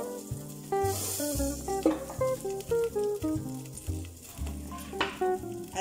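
A cube of butter sizzles in a heated pot at the start of a Japanese beef curry. The soft, continuous frying hiss sits under prominent background music, with no talking.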